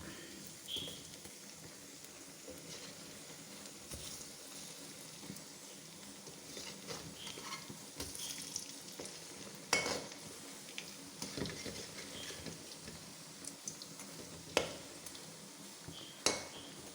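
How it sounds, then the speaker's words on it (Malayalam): Kerala-style urad dal vadas deep frying in hot oil give a steady, low hiss of sizzling, broken by occasional metallic clinks and scrapes of a utensil against the pan. No one speaks. "നമ്മുടെ ഉഴുന്നുവട എല്ലാം മറിച്ചിട്ട് മൂക്കാറായി"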